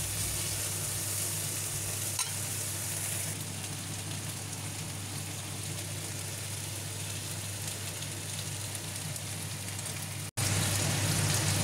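Chicken wings fry in a pan with a steady, even sizzle like light rain, continuous and close, broken by one brief dropout near the end; no talk.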